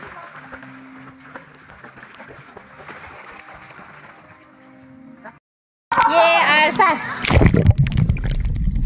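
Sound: children splashing while playing in water

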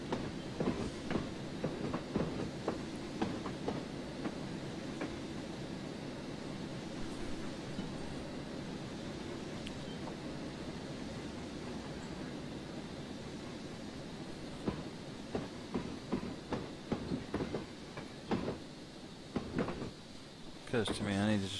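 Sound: train running on rails in video game Train Simulator 2015

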